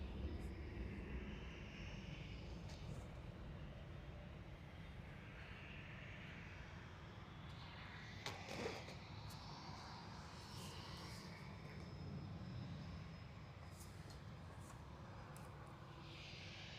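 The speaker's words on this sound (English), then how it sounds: "KLM's about to touch down as well." A KLM airplane touches down at Manchester Airport, its engine roar a broad, distant rumble that holds steadily under outdoor wind noise, with no clear voices.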